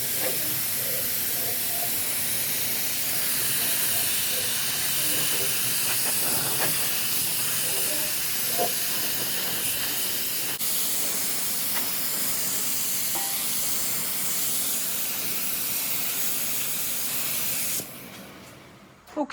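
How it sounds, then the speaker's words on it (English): Rust shield coating sprayed onto a rusty auction truck's frame gives a steady, close hiss that holds for most of the stretch and then stops abruptly just before the end. "Getting ready to spray some rust shield on the frame."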